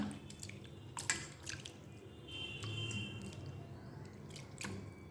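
Raw mango pieces rinsed by hand in a bowl of water, soft quiet drips and small splashes with light squishing, intermittent and close.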